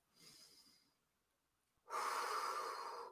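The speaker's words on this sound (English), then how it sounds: "Take some big deep breaths in this space." Two deep breaths during a morning warm-up session: a soft inhale, then a pause, then a louder, longer exhale, close and without talking.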